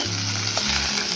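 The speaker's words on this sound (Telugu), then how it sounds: "ఇవన్నీ మంచిగా ఫ్రై అయిపోయింది కాబట్టి ఇదంతా మనం వేరే గిన్నెలో వేసేద్దాం." Curry leaves, spices and turmeric frying in a pan, a steady close sizzle with stirring scrapes, loud and continuous without any talk.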